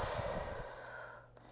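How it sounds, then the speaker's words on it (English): A deep inner core breath taken during a floor exercise, heard as one close, forceful exhale rushing out through the nose and mouth and fading within about a second. "So I'm going to do my inner core breath."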